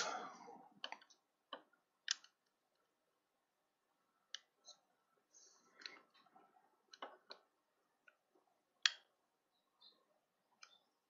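Adjustment tape being cut off the feed of a homemade dual-band helix antenna: sparse, crisp clicks and snips close by, with short gaps of near silence between them and no talking.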